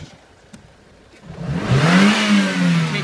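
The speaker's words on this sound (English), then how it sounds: "Take the engine speed up to wide open throttle, up to maximum engine speed" A 2005 Renault Scenic with a K4J 730 engine idles quietly, then revs up hard to wide open throttle and holds at a high, loud whine.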